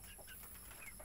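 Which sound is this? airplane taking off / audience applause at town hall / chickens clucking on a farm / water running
chickens clucking on a farm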